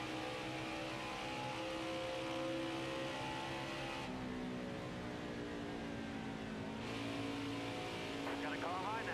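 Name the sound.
race cars passing on track in NASCAR Heat 5 video game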